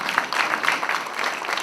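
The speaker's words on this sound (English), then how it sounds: "Give a round of applause to Zambia." Brief burst of audience applause for Zambia, dense and steady clapping from a crowd throughout the short moment.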